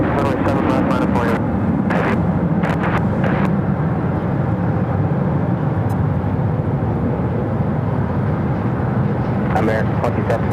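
A heavy Boeing 767 jet departs runway 7 left at Phoenix Sky Harbor, a broad continuous engine roar filling the scene at steady loudness, with scattered radio-style voices breaking in briefly over it.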